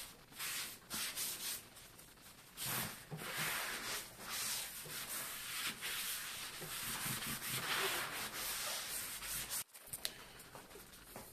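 Broadband rubbing and wiping on a car's leather seat as dust is cleared with a cleaner, steady scrubbing strokes close by with brief pauses and no talk.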